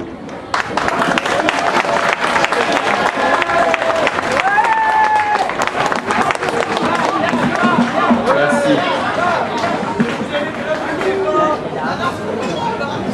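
A large crowd applauds before the mayor's speech, sustained loud clapping with some cheering and chatter mixed in, beginning abruptly and carrying on for over twelve seconds.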